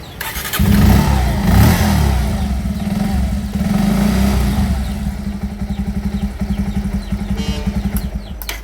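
Petrol motorbike engine, on a hybrid petrol and battery conversion bike, starting and revving loudly up close, then settling into a fast, pulsing idle with a regular puttering rhythm.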